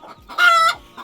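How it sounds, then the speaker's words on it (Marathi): A hen gives a single loud, harsh squawk flanked by short softer clucks, close by on a farm as she gets ready to lay an egg. "मला वाटतं ही पण अंड्याला आली आहे त्यामुळे ओरडते."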